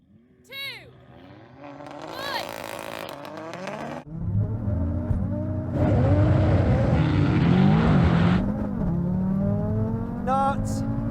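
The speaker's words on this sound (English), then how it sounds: "a quick clip here of them doing a proper run so you can see it and just see the difference in the cars and just the speed these things can go" High-performance cars racing: a 1,000 hp BMW M5, an 800 hp Audi RS3 and a Porsche 911 Turbo S, with layered engine roars rising and falling through gear changes, a loud sustained acceleration run in the middle, and speech mixed in.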